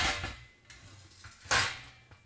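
Steel headache rack frame being flipped over on a welding bench, giving two loud metallic clanks with ringing scrapes, the second clank sharper, heard up close with no talking.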